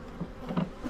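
Honey bees buzz close by at an opened hive, with several individual buzzing passes near the microphone over a low hum.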